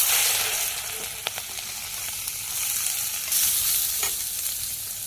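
Snake gourd hits hot oil with dried red chilli and cumin seeds in a Bangladeshi village kitchen, giving a steady bright sizzle with occasional stirring scrapes and pops, moderately loud and without talk.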